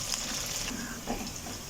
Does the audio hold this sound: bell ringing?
no